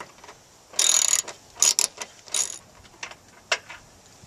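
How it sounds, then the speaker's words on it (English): A ratchet with a 10mm socket loosens the factory airbox fastener on a 4.0L V6 Mustang, giving several close, crisp bursts of rapid clicking separated by short pauses and lighter ticks. "we're going to remove the factory airbox fastener by using a 10mm socket"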